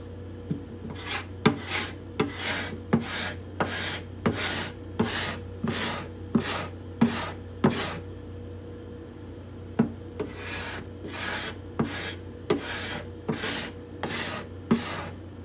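A hand scraper works the bindings and purflings on the cedar top of an acoustic guitar, making close, repeated rasping strokes in a steady rhythm, each stroke ending in a light tick, with brief pauses between runs.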